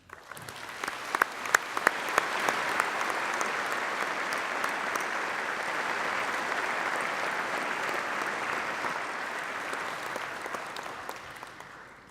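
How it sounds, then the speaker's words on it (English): A large audience at a UCLan graduation ceremony applauds the staff, an even, sustained roar of clapping that holds at a steady level throughout. "I'd like to thank every one of our staff and ask once again that you join me in applauding them"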